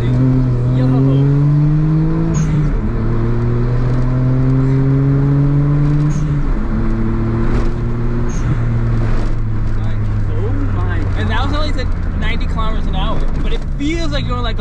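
A three-cylinder kei car engine drones steadily while driving, its pitch climbing through gears and dropping at shifts, loud and close, with people talking and laughing inside the cabin over it.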